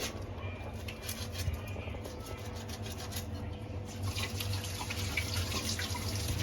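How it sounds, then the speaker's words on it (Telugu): Raw fish being washed under running tap water in a home kitchen sink, with steady splashing flow and rubbing against the flesh, continuous and close. "ఇట్లా కడిగేస్తా అనమాట ఇట్లా రుద్దేసి రొట్టుకు పేసి కడుగుతా"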